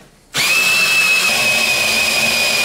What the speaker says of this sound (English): I use a cordless drill.